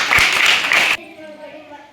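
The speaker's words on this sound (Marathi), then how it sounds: "टाळ्या वाजवा सगळ्यांनी" A brief burst of dense group clapping for a child at a children's science fair; the applause is loud and stops abruptly after about a second, leaving quiet room tone.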